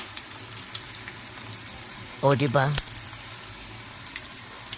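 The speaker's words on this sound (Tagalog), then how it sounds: "hindi ko rin nabidyoan yung pagpahit ng kabali, direct na prito" Banana blossom frying directly in hot oil gives a low steady sizzle, then a brief louder burst of crackling and clinking partway through as a voice speaks a few words over it.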